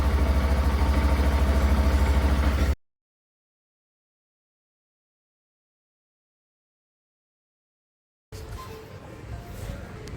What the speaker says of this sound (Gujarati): સ્ટાર્ટ કરી દીધું આપણું બાઇક, કોલ્ડ સ્ટાર્ટ.